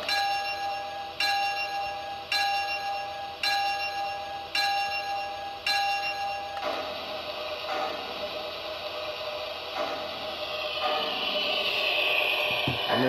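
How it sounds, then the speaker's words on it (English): A toy train bell from a Lionel LionChief Chicago & Northwestern steam set rings steadily about once per second, several strikes in a row, then fades under a rising hiss and mechanical noise. "it's got a good sounding bell as well"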